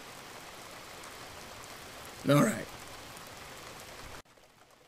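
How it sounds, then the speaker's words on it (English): Steady rain falls outdoors as an even, close hiss that fills the scene, with a voice speaking briefly partway through before the sound cuts off near the end. "If the rain hasn't stopped in 5 minutes, we'll turn back around."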